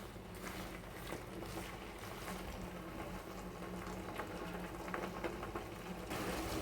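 Herbal hair oil simmering over a low flame, with a steady bubbling hiss and scattered small pops running continuously, close and fairly quiet, with no voices.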